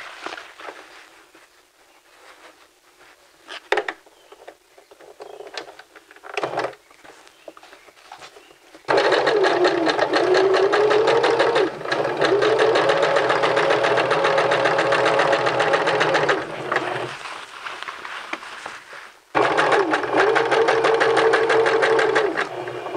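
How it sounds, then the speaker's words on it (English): A sewing machine stitches steadily along the inner edge of a men's vest belt, running loud and continuous in long bursts with brief pauses between, after a quieter stretch of handling at the start. "we're going to sew right along the edge of the belt using the inside, the inner edge of the presser foot as your guide"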